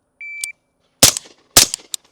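A shot timer beeps once, then two sharp rifle shots crack during a shooting drill, each followed by a brief echo. The shots are loud and close, about half a second apart.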